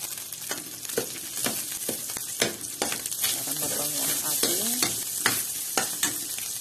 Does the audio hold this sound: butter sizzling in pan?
yes